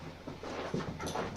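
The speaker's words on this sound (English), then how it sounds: "I have one crazy dog." A dog pants rapidly up close with a short whimper in one brief burst.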